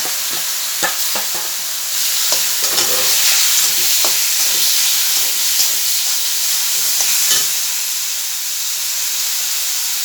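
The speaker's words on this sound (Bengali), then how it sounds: "লাল হয়ে গেছে, এবার কচুটা দিয়ে দিচ্ছি।" Taro pieces tip into hot oil with fenugreek seeds in a pan, setting off a loud, close, continuous hissing sizzle that swells and then steadies, with scattered clicks of stirring and no talk.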